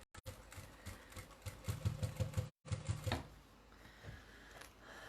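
A sewing machine stitches a cathedral windows quilted table runner in short rhythmic bursts of rapid needle clatter, pausing briefly, then running again before trailing off into quiet handling noise.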